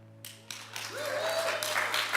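A church congregation starts applauding, the clapping building from a few scattered hands into steady, moderately distant applause over a low hum, with a brief voice rising through it.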